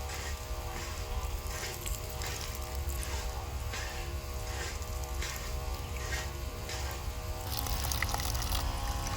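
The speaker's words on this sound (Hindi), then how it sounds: "गिलास में पानी भर तो देखते हैं कितना जल्दी ये गिलास को भर देता है" Water from a 775 DC motor pump fitted to a handpump pours steadily into a glass, a continuous splashing rush over a low motor hum, close and fairly loud throughout.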